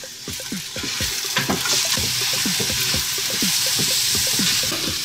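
Chopped mushroom stems cook with onions and garlic in a hot pan, stirred constantly: a loud, close frying hiss carries a rapid, rhythmic run of spoon scrapes and knocks throughout.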